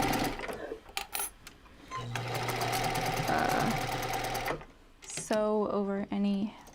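A sewing machine stitches fabric with a fast, continuous mechanical whirring run of needle strokes lasting a couple of seconds, with a voice speaking before and after it.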